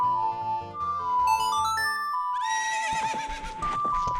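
Epona the horse from Ocarina of Time whinnies as a game sound, set among bright synthesized music tones that carry through the whole stretch without talk.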